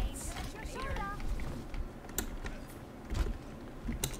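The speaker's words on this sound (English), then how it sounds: "nobody make fun of my typing speed" Typing on a computer keyboard during an Overwatch match gives soft scattered keystrokes under game sounds, with a voice talking in the background.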